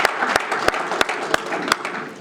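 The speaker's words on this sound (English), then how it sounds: "You can clap. I would clap for that too." A seated audience at a talk on presidents at war breaks into steady applause, a continuous wash of many hands with a few louder claps punching through near the front.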